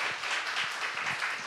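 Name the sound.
congregation applauding in church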